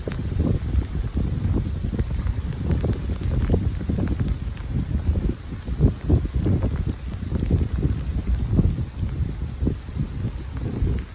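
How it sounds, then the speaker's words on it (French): Rain mixed with sleet pattering steadily during an April squall, with a gusty north wind buffeting the microphone throughout. "C'est du grésil qui se mélange à la pluie."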